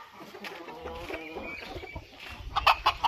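Newly acquired poultry clucking softly at close range, murmuring chicken calls with a few sharper clucks near the end.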